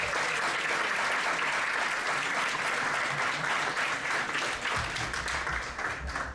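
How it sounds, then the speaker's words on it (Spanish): An audience at a Try IT conference session on artificial intelligence in engineering gives loud, sustained applause. The dense clapping continues for about six seconds, then begins to fade. "Así que yo os daría un aplauso a vosotros"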